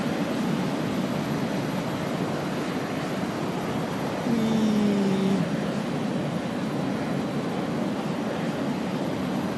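Engine drone of a Bell X-1 rocket plane in Flight Simulator X, a steady broad rushing roar at high speed with a short faint whine sweeping down midway.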